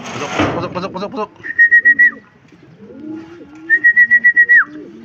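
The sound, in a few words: racing pigeons cooing as they return to the loft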